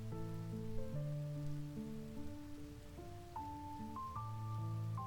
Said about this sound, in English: Note the rain that's just all of a sudden here without any actual rain